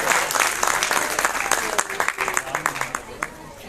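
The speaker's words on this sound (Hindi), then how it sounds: "और जोरदार तालियां बजाइए श्री योगेंद्र रावत जी के लिए" Audience at the Aadi Vigyan Mahotsav science festival in Uttarakhand applauds an arriving official, a burst of clapping that thins into scattered, separate claps, with a voice speaking over it.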